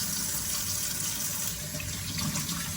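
Tap water runs steadily into a sink while vegetables are washed, a continuous close splashing hiss with no voices.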